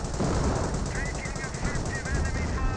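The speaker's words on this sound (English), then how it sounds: "Fires a pair of shots there." Rapid machine-gun and rifle fire rattles in a Company of Heroes 1 World War II battle, dense loud bursts running continuously with faint whistling effects layered above.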